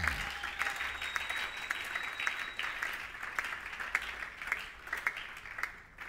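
A church congregation applauds and cheers steadily for several seconds, a dense, even wash of clapping heard from some distance.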